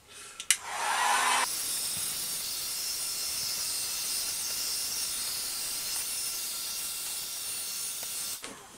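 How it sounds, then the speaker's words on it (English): A heat gun drying paint on Mandalorian jetpack armor switches on after a couple of clicks, then blows with a steady loud airy whoosh for several seconds before cutting off. "The paint will be drying with the assistance of heat gun."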